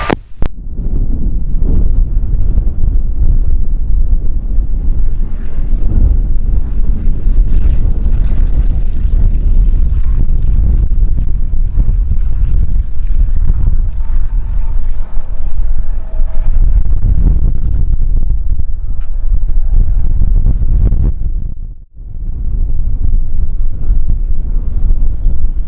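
Strong gusting wind buffets the microphone at Kagoshima Airport, a loud continuous low rumble that surges and eases, with faint aircraft noise beneath and a brief lull near the end.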